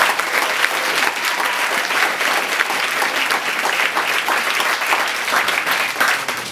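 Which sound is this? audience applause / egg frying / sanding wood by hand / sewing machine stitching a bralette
audience applause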